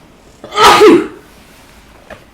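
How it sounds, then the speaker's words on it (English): One loud, close human sneeze bursts out, set off by allergies. A faint small sound follows after a pause in an otherwise quiet room. "I'm probably going to sneeze in a second."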